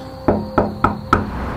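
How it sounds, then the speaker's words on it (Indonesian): Four firm knocks sound on a room door in a villa during a horror radio story, evenly spaced, close and sharp, with no voices. "Aku ketuk lagi."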